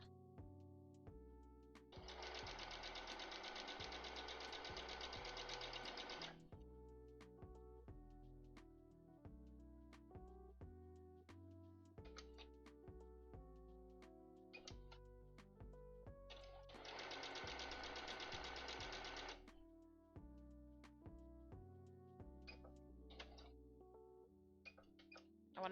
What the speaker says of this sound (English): We're just gonna sew these all up.